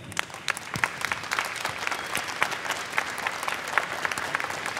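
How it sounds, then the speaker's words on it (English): A theater audience at TwitchCon 2016 claps loudly and continuously, with dense overlapping hand claps close by and a few sharper individual claps. "And a round of applause for everybody"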